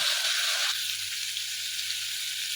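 Spices sizzle and fry in a hot pan for a gravy, a dense, steady hiss that drops slightly in brightness partway through, with a low hum underneath and no voices.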